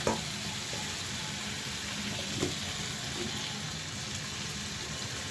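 Potatoes sizzling in a hot pan as they are added and stirred, a steady broadband frying hiss throughout with a few soft stirring knocks, close and moderately loud, no talk.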